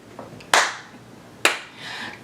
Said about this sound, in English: We're going to clap our hands.